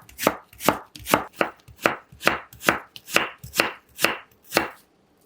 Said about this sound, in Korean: 사과는 양파보다 두께감 있게 잘라줄게요